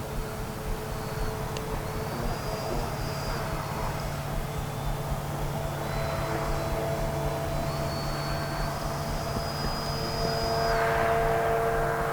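A Freewing Yak-130 RC model jet whooshes past with a continuous high, whining hiss and a broad roar during a rough flight, rising slightly toward the end.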